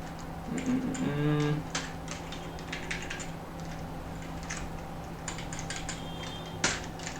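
Code typed on a computer keyboard in short bursts of quiet key clicks across a steady background hum, with a brief tonal sound near the start.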